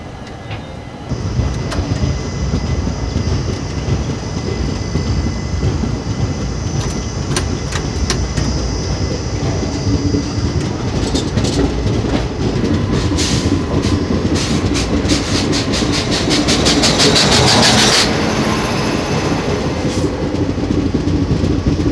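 The Millennium Express pulls out of Ongole railway station in a steady, loud rumble of wheels and carriages, with rhythmic clicks over rail joints building toward the end.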